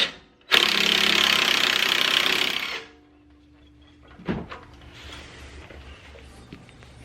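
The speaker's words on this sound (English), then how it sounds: "I'm going to get back to what I started earlier by taking this bottom bolt out of the shock" An impact wrench rattles loose the bottom shock bolt on a Chrysler 300 during a lowering spring install, one loud sustained burst of about two seconds, followed by quieter clanks and metallic handling.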